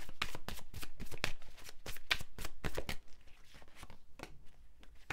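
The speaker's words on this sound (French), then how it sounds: "je mets quelques cartes du tarot" Tarot cards are shuffled and laid out in quick, crisp riffling flicks that come close and fairly loud at first, then slow into softer, scattered taps as they settle.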